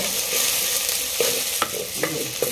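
Ginger garlic paste sizzles steadily in hot oil in a clay pot while a spoon scrapes and stirs through it at close range, with occasional knocks against the pot.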